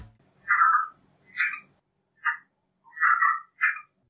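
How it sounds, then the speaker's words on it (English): A red-eyed tree frog calls in five short, loud, nasal bursts spaced about a second apart, close and clear against silence. "It's a red-eyed tree frog."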